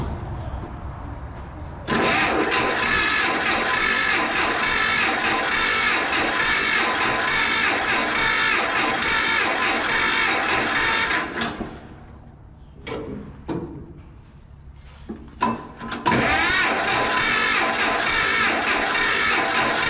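An old 520 engine is cranked and fired on choke, a loud steady mechanical chatter running for about ten seconds before cutting out into sputters and brief bursts, then catching again and running strongly.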